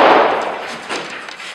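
A single sharp shot from a DoubleTap .45 ACP derringer with a ported barrel, fired one-handed, cracks loudly and decays quickly, followed by a fainter second report.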